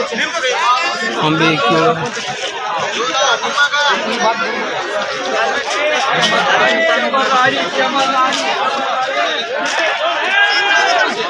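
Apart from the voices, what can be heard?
crowd at Mantha weekly market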